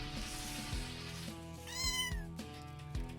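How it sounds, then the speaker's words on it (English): A cartoonish cat meows from the firefighting platformer game Nuclear Blaze, rising and falling once near the middle of the clip over steady, busy game music with rhythmic low beats. "Gotta save the kitty."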